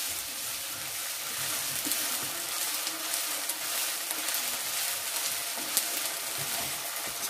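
Onions frying in a pan as ginger garlic paste is stirred in for an egg curry, giving a steady, dense sizzle that runs unbroken throughout with faint scraping of the stirring.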